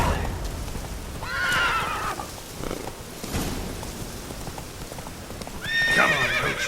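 Roach the horse in The Witcher 3 neighs twice, a whinny near the start and another near the end, over rapid galloping hoofbeats throughout.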